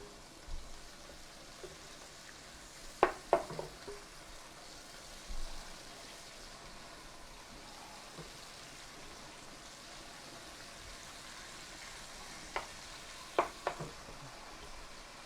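Pork tenderloin fries in a pan with a soft, steady sizzle, quiet and close, broken by a few sharp utensil clinks.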